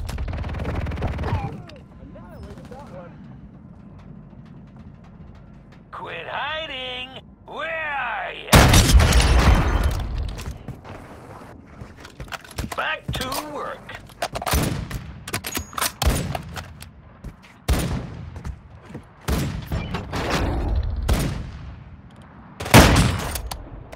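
Gunfire in the mobile shooter Warzone Mobile: loud bursts of rapid automatic fire and single sharp shots, with booms and thuds, mixed with brief voice chatter and game announcer lines.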